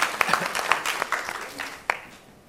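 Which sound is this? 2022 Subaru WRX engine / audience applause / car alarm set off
audience applause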